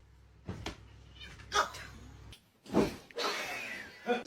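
A kitten meowing, a few short cries and a longer drawn-out wail in scattered bursts, close and fairly loud, with quiet gaps between.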